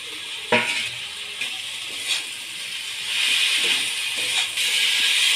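Fried vegetables go into a hot frying pan for a cauliflower dish, giving a close, steady sizzling hiss that swells after a few soft clatters and knocks as pieces are added, with no talk.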